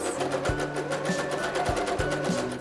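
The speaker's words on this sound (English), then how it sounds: "so I am sewing my hem at 3/8" A sewing machine stitches a fabric hem with matching thread, a soft steady whirring hum with faint periodic clicks, quiet and close, no talking.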